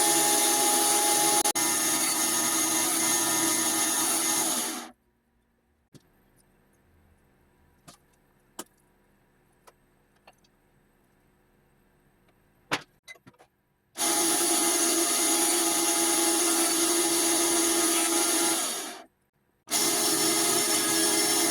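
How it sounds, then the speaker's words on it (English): A bandsaw trims 45-degree angles off wooden organ bellows parts, giving two loud, steady bursts of cutting noise separated by a quiet gap of faint clicks and handling sounds, then a short pause before the blade runs again. "I'm lining them up with the mark on the bandsaw, so they're all being cut off"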